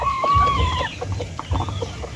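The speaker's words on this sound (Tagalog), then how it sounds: "ito isa sa mga broodcock din natin" A broodcock rooster gives a short burst of close, throaty clucks, with a brief higher call at the start.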